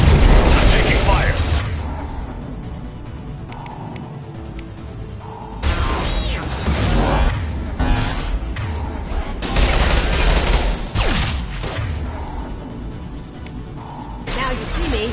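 Gunfire and explosive booms in the video game Mass Effect 2, sustained volleys of rapid shots with heavier impacts and crashes, loud throughout, with combat voices heard among the firing.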